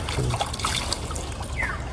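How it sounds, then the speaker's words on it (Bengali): Light water splashes and trickles at a pond during fishing, soft and close, in quick little bursts over a couple of seconds. "পানি ছিটকা পড়বো হালকা"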